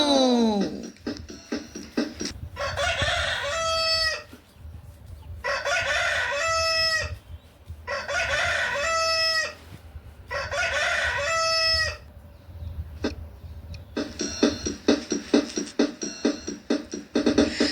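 A rooster crows loudly and close by, with four long cock-a-doodle-doo calls in a regular rhythm separated by brief pauses, followed by a burst of rapid clucking.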